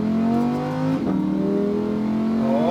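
A Lamborghini Huracán accelerating hard on a race track in Las Vegas, its engine note climbing steadily in a loud, close roar with a brief dip in the middle.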